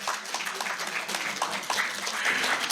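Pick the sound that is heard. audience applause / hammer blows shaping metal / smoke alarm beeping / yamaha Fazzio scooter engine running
audience applause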